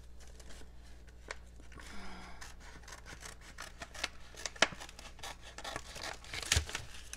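A knife cuts through the top of a Pop-Tart sandwich holding turkey, giving quiet crunching, crackling and scraping sounds in uneven bursts close by, with a few sharper clicks and no talk.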